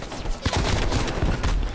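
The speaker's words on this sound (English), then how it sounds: "I'll fucking shotgun you all day" Rapid gunfire from a close-range firefight in Call of Duty: Black Ops Cold War, a dense loud clatter of shots running almost unbroken throughout, with shotgun blasts mixed into the barrage.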